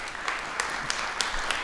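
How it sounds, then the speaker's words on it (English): Audience at a live campus podcast recording gives the panelists a round of applause, a dense, even patter of many hands clapping at moderate volume. "can you give our panelists a round of applause? But you guys beat me to the punch"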